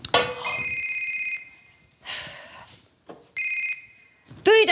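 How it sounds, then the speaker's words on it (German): A telephone rings indoors with two separate bursts of bright electronic trilling, loud and close, with short gaps of other sounds between them. "Telefon klingelt."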